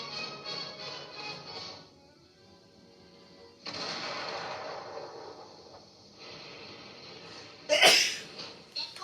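A single sharp sneeze bursts out near the end of a soft cartoon soundtrack, loud and close after quiet background music.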